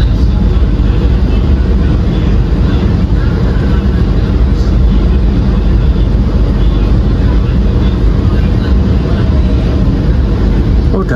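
A long passenger train rolls into Gombong station, its loud, continuous rumble and rattle filling the whole stretch as the train slows along the track.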